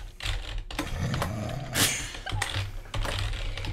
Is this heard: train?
no